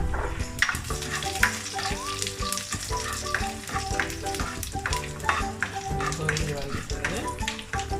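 Dried red chillies, mustard seeds and fennel fry in hot oil for a spicy cassava masala, a busy crackling sizzle with stirring clatter throughout, while background music plays and a voice talks at times.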